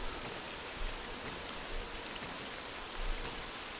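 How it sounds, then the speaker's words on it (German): Steady rain pours down in the survival video game SCUM, a dense, even hiss of drops that holds at a constant level throughout with no voices over it. "Das regnet das gut nach 40 Minuten schon"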